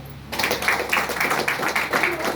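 An audience breaks into steady applause at an indoor company programme, many hands clapping together close and fairly loud after a brief quiet start, continuing to the end.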